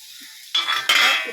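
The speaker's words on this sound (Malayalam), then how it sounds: "അപ്പം ഞാൻ താളിക്കാൻ പോവാണ്." Garlic, onion and chilies, including green and bird's-eye chilies, dropped into hot oil for tempering give two sudden bursts of close, loud sizzling that crackle on after a quiet start, with no talking.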